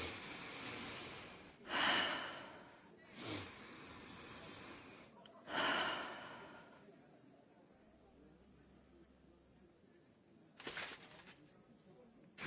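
Deep breathing from an injured man in a video game, several loud, harsh inhales and exhales spaced apart, some wheezy and gasping, close and up front with quieter stretches between.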